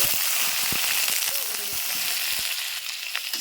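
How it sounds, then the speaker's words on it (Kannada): Sliced small onions and mustard seeds frying in hot oil for a green chilli palya, a steady close hiss with faint stirring clicks throughout. "ಉಳ್ಳಾಗಡ್ಡಿ ಹಾಕಿದ್ಮೇಲೆ ಇದು ಒಂದು ಸ್ವಲ್ಪ ರೀ ಈ ಉಳ್ಳಾಗಡ್ಡಿ ಒಂದು ಸ್ವಲ್ಪ ಫ್ರೈ ಮಾಡ್ಕೊಬೇಕು"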